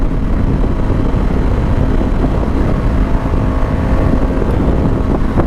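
A 2020 Honda CBR500R motorcycle at riding speed, with a steady, loud rush of wind over a low engine drone that holds constant throughout, with no talking.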